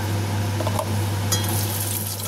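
Nigella seeds crackle and sizzle in hot oil in a kadai, a steady dense frying hiss with a constant low electrical hum underneath and a few faint clinks.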